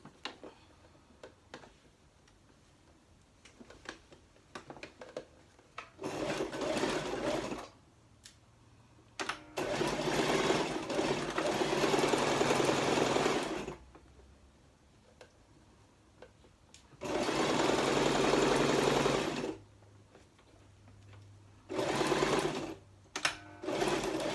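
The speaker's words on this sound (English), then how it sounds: "So if you hear my sewing machine going" A home sewing machine stitches a fabric bow in several bursts of rapid mechanical whirring and ticking, each run lasting a few seconds and separated by quieter pauses with faint handling sounds.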